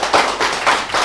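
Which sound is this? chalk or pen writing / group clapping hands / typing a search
group clapping hands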